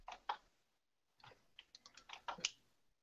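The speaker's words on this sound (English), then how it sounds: "I hear typing." Quiet keyboard typing in short bursts of clicky keystrokes, with a brief pause between flurries.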